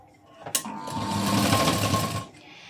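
A sewing machine runs a single steady burst of stitching along a folded fabric edge while shaping a round front neckline, starting with a sharp click and humming evenly for under two seconds before stopping.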